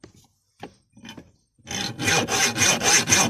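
A hand saw rasps through a stainless steel bolt, working in a steady back-and-forth rhythm of about six loud, close strokes after a few faint preceding scrapes.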